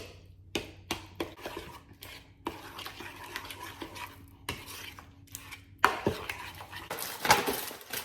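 Sushi bake ingredients dressed with sriracha being mixed in a bowl: repeated soft, wet stirring and scraping strokes with occasional utensil knocks, close and moderately loud, with no talking over it.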